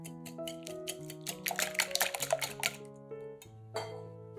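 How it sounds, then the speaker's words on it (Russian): A utensil stirring eggs with salt, sweet paprika and ground black pepper in a bowl, giving a quick run of light clinks and scrapes against the bowl over a soft background of music. "Все перемешиваем."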